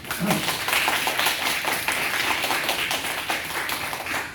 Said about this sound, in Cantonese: 咁咧我哋俾啲掌聲 Danny 好唔好啊？